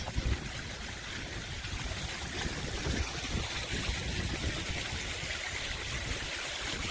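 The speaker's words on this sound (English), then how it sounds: "Must be about half a dozen waterfalls." About half a dozen small waterfalls run down rocks onto a beach, a soft, steady rushing wash that holds even and continuous throughout, fairly faint and with no voices over it.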